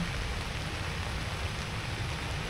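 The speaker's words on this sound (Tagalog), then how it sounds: "Umuulan sa labas." Steady, dense rain patters continuously on a rooftop tent overhead on a Suzuki S-Presso, a close, even hiss with no pauses.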